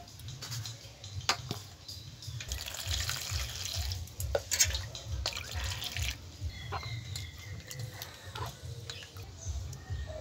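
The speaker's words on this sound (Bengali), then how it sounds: "এগুলোকে আমি ভালো করে জল দিয়ে আগে ধুয়ে নেব।" Eggplants are washed under running tap water, with a steady trickling splash, drips and soft rubbing and handling sounds, close but fairly quiet, with no talking.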